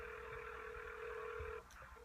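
Telephone dialing tones from a computer phone system sound as a steady electronic tone holding for about a second and a half, then cutting off, followed by a short higher beep, faint and alone.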